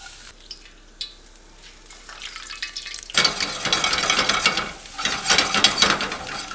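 Garlic dropping into a hot, curved pan, with a sudden loud sizzle bursting in halfway through and crackling steadily after a quieter stretch of clinks and handling noise.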